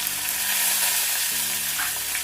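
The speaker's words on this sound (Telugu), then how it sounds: "ఇవన్నీ కొంచెం వేగాలి." Curry leaves, dried red chilies and turmeric frying in oil for a Telugu brinjal dish, a continuous close hissing sizzle with light stirring, loud and unbroken, with no talk.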